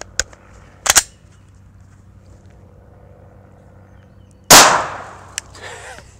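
A .45 ACP full metal jacket hardball round fired down through a floor: one loud, sharp report near 4.5 s with a ringing decay, after two smaller clicks early on, in an otherwise quiet indoor setting.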